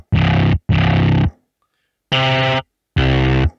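Gritty distorted synth patch from a Mad Max: Fury Road scoring session in Logic Pro X, heard as two loud sustained bursts, a pause, then two more with a brighter, buzzier octave-layered character.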